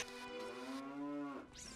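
A single long, low cow moo from the house cow in The Legend of Zelda: Ocarina of Time Randomizer, steady and clear, rising slightly at the end, with no voices over it.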